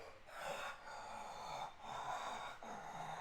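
Voice imitating heavy, rasping breathing from inside a helmet, three long harsh drawn breaths, close and hoarse, each separated by a brief pause.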